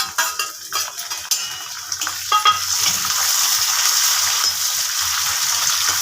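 Onion and curry leaves dropped into hot oil in a pan for a ponnaganti leaf fry, with a few clattering stirs at first, then a loud, steady crackling sizzle that holds close without talk.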